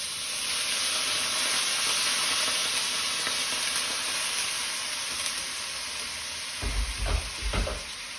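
Sauce for Chinese-takeaway-style chicken with cashew nuts sizzles steadily in a hot pan, a dense bright hiss close up, with a few low clunks near the end.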